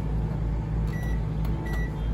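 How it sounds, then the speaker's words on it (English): A steady low electrical hum with a faint whirring drone from a microwave oven running close by in an Entegra Odyssey 24B motorhome, constant and unbroken. "The microwave works."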